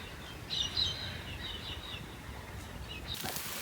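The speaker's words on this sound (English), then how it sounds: "The birds are very noisy this morning." A few faint morning bird chirps rise briefly over a steady outdoor hiss, with the calls sparse and distant.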